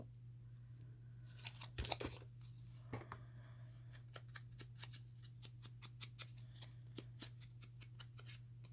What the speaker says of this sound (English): So let's just use our scissors.